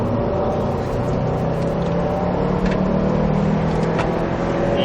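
A Subaru WRX STI accelerates hard on a track, engine droning steadily and loudly from inside the car over constant road and cabin noise.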